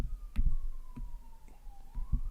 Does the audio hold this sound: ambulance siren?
yes